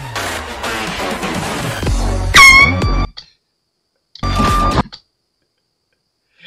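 An air horn in a prank blasts twice, loud and close: a long piercing honk, a pause of about a second, then a shorter second blast.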